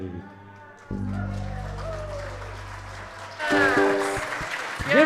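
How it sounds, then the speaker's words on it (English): A congregation claps at a worship service. Organ-like sustained tones come first, then the applause swells near the end and fills the space, with a voice over it. "Give yourself a round of applause."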